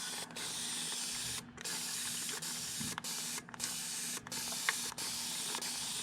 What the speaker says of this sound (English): saturated it with the spray first